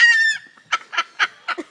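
A cockatoo lets out one long, harsh squawk, then a string of five short raspy calls at uneven intervals, close and alone.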